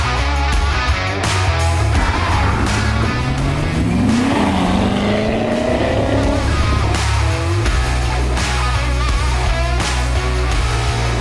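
A Corvette engine drones loud and close while driving off, a steady low rumble with rising and falling revs and a brief whine as the car pulls away and shifts.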